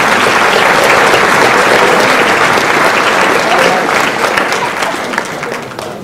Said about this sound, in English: Let's give all those athletes a round of applause.